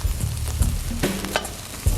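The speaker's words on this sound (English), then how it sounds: "We're starting with shiitake mushrooms, adding them to the pot here." Shiitake and oyster mushrooms sizzle in a hot pot, a steady close frying hiss broken by a few stirring scrapes and knocks.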